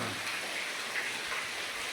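Steady rain hisses down on a surface, a dense, even patter with no voices, during a long spell of continuous rain in Gujarat.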